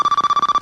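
A telephone rings for an incoming call on a radio talk show, a steady electronic trill pulsing rapidly and loudly for a brief moment with no talk over it.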